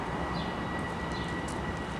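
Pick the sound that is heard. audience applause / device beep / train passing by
train passing by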